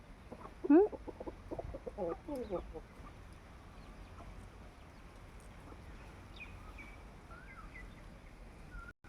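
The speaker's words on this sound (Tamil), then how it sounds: "கோழி பாருங்கள் வெளியே வந்த உடனேமே தீவனம் கேட்குது" Chickens cluck and squawk close by, with a loud burst early on, then quieter scattered clucks and chirps over a low background.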